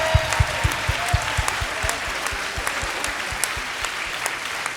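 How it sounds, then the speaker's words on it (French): An audience claps at a talent show performance, a dense wash of applause with a few rhythmic, evenly spaced claps standing out near the front, and no voices over it. "Donc on peut les applaudir encore une fois, s'il vous plaît."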